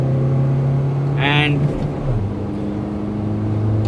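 A 2021 Mahindra XUV700 diesel manual accelerates hard with some wheelspin, its engine drone climbing steadily, dropping at a gear change, then rising again, loud and close, with a brief voice over it.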